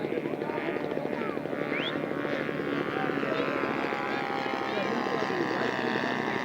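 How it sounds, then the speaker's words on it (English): A scale model Vindicator airplane flies and lands at a scale aircraft show. Its steady propeller engine drone is loud and constant throughout, with someone talking over it. "Landing. And this is the most beautiful airplane here."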